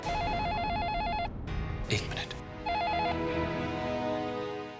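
A phone rings in a repeating electronic pattern, pausing briefly while a person speaks a few words, then ringing again before fading out.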